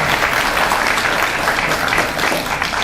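A steady burst of applause from an audience at a Seoul mayoral candidate's campaign speech, even and continuous throughout, with no voices on top.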